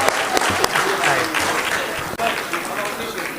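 An audience at a mushaira poetry gathering in Lucknow applauds, dense continuous clapping filling the clip with a voice heard over it.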